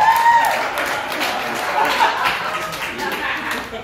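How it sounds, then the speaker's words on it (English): An audience at a comedy club applauds in a lively burst that gradually thins out, with some chuckling and voices mixed into the clapping. "So how about a round of applause for that last night?"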